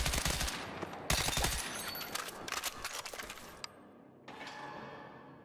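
Rifle burst fire in Battlefield 6, close rapid bursts of shots in quick succession, fading toward the end, with faint talk underneath.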